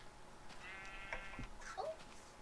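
Sheep in the Minecraft video game bleat in a few short, faint calls over a steady background hiss, with no talk.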